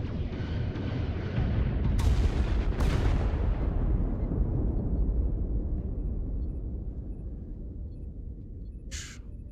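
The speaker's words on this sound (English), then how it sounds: "Targeting their life support systems. Commencing fire." Starship weapons firing on an enemy ship in the Star Trek Resurgence video game: a loud sustained rumbling barrage with a couple of sharp bursts, slowly fading over several seconds, ending in a brief high zap.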